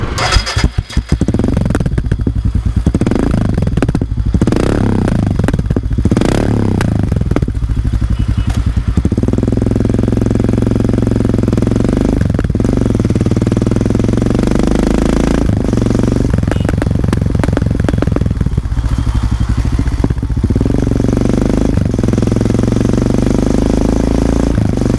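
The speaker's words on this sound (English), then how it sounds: "I like the exhaust because it gives much better sound to the engine noise" A Royal Enfield Himalayan motorcycle engine with an off-road performance exhaust idles and revs in bursts, loud and close, settling into a steady rumble with occasional throttle blips.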